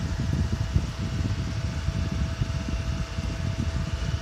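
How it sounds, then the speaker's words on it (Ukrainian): The cooling fan of a Vita welding inverter whirs steadily, a dense low rumble with a faint tonal hum, close and unchanging throughout. "слухаємо, включається вентилятор і реле буде працювати"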